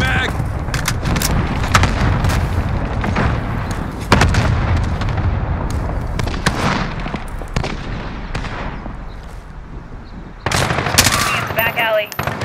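Rapid gunfire and booming blasts from a Call of Duty Modern Warfare team deathmatch, with a cluster strike pounding the area in dense, continuous bursts and a sharper volley near the end, game voice callouts under the din.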